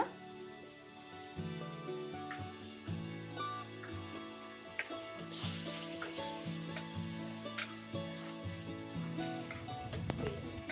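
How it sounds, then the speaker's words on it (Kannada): Chopped tomatoes with turmeric fry in a pan for Karnataka-style bisi bele bath, giving a steady, close sizzle with occasional crackles and stirring scrapes, with no talking. "ಚೂರು ಬೇಯೋವರೆಗೂ ಫ್ರೈ ಮಾಡ್ತೀವಿ."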